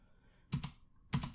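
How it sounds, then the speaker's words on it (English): Two quick bursts of computer keyboard keystrokes, close and crisp, a short clatter of presses followed by a pause and another brief cluster, with no voice over them. "I'm typing the dot for the class and then container, and hit tab again"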